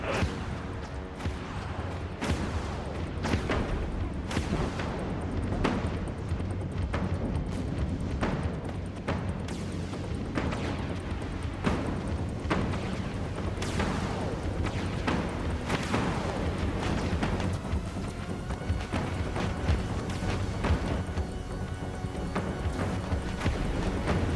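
Warship primary weapons in the Dreadnought video game fire in a dense, continuous barrage of booming shots, loud and close, layered over a constant low engine rumble with no pauses throughout.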